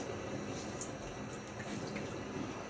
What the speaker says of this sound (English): And put a little water on my face.